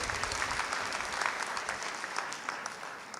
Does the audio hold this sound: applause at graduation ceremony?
yes